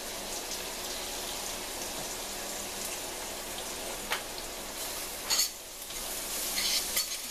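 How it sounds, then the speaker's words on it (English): Curry leaves hit hot oil with cumin for a chicken and lentil curry, giving a steady, fine crackling sizzle like light rain, close and moderate, with a few louder pops and spits toward the end and no speech. "And then I'm going to add my curry leaves."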